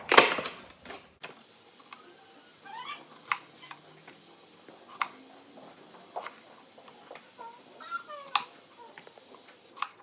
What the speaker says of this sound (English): we're going to get our cutting board and cut some strawberries